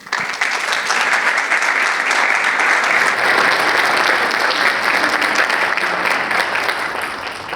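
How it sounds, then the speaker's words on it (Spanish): A summit audience breaks into strong applause after a speaker's presentation on health clinics and hospitals, the clapping rising quickly and staying full and even before tapering slightly at the end, with no voices over it. "agradecemos a Denise nuevamente con un fuerte aplauso por su brillante presentación"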